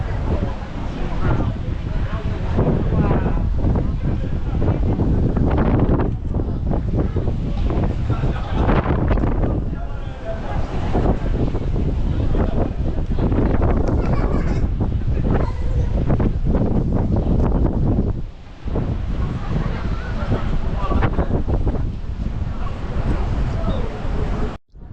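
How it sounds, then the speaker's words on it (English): Strong wind blows across the top of a high town wall in Essaouira, buffeting the microphone with loud, gusty roaring that rises and dips throughout, briefly dropping out near the end. "My God, it's windy up here."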